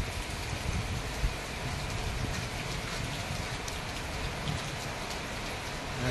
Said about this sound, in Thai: ก็ฝนตกประมาณนี้เนี่ย